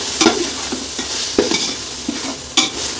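Vegetables and tomato sautéing in a pot for Dindigul-style dum biryani, a constant frying hiss broken by three or four scraping stirring strokes of a spoon against metal, close up, with no talking.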